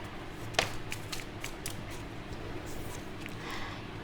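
A deck of tarot cards being shuffled by hand gives soft riffling flicks and a sharp snap near the start, followed by intermittent papery rustles close to the mic.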